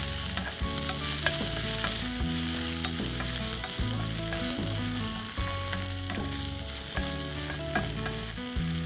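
Mint leaves frying in a pan for pudina coconut chutney: a loud, continuous sizzle throughout, with tonal background music underneath.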